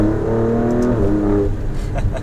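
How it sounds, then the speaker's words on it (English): A 2018 Alfa Romeo Stelvio Quadrifoglio turbo engine revs up under acceleration in second gear with a rising tone, then drops off into a throaty gurgle with a couple of quick pops. "right when it's hitting boost, you hear that little like gurgle and pop"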